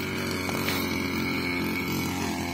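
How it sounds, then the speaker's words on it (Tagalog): A grass cutter runs steadily in a farm field, its small engine holding a constant buzzing drone close by for the whole stretch, with no voices over it. "Si Manman ay nagra-grass cutter."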